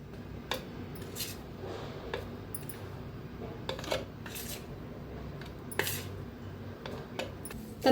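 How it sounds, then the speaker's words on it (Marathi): Homemade garam masala powder spooned into a jar, with light scraping and clinking of a spoon against the container in scattered, irregular taps, close and fairly quiet. "तर आता ह्या भरणीत भरून घेते"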